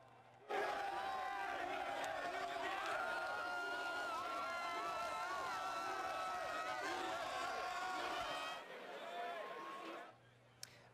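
Philadelphia Union soccer fans celebrating in the streets at night: a dense, loud crowd of shouting and cheering voices with chanting tones, continuous for several seconds before dropping off sharply.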